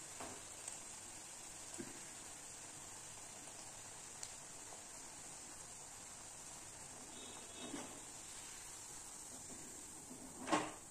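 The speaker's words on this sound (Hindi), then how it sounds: "मसाला पूड़ियों को हम लोग फ्राई कर लेंगे" Masala puris deep frying in hot oil, a faint steady hiss with a few soft clicks and one brief louder knock near the end.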